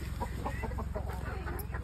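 Chickens cluck in short, soft bursts, fairly close but faint, over a low background hum, with no talking.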